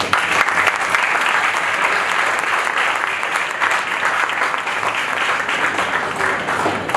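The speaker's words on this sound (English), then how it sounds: "Can we have a big round of applause once again for such a nice keynote speech." An audience at the inaugural session of an international conference gives sustained applause after a keynote speech, a dense, even roar of many hands clapping throughout with no voices.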